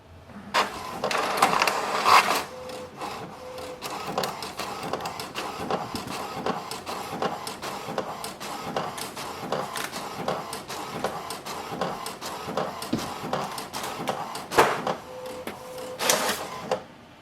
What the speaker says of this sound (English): printer is about to print the alignment page